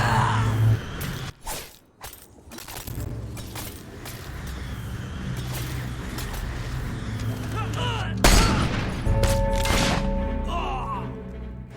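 A volley of gunfire rings out at an execution in a Fable video game, sharp bursts over a dense game soundscape with music and background noise, a louder crack near the end.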